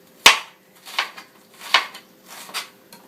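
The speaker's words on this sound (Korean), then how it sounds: "이렇게 다지면 양파를 쉽게 다질 수 있습니다" A knife mincing onion on a cutting board, four or five distinct sharp chops spaced about half a second apart, close and fairly loud with quiet gaps between.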